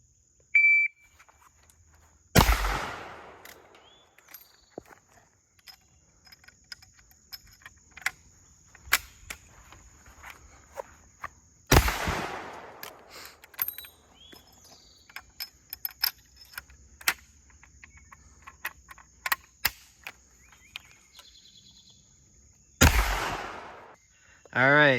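Three loud gunshots from a Springfield Trapdoor rifle crack out about ten seconds apart on a timed shooting course, each a sharp blast with a short decay, while faint clicks, a shot timer's steady beep and quiet shuffling fill the gaps.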